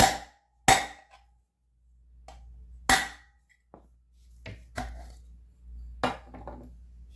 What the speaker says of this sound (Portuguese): É só colocar ele dentro e dar uns três baques nele aqui, ó.